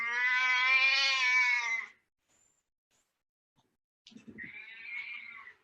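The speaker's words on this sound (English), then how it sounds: "That's my darling cat, Luna." A pet cat meows twice at close range: one long, loud, drawn-out call, then a pause of about two seconds and a second, shorter meow.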